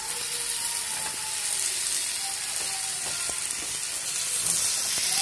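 Pulao ingredients being stirred and mixed together in a pan with a spatula, a steady hiss of frying underneath scattered scraping and clinking strokes, close and fairly quiet, with no talking.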